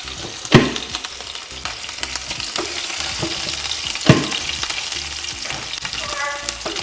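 Cumin, green chili and dried red chili fry in hot oil with a lively, close sizzle, punctuated by a couple of sharp clinks from stirring, with no talking.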